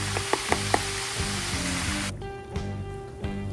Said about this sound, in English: these things are sizzling pretty good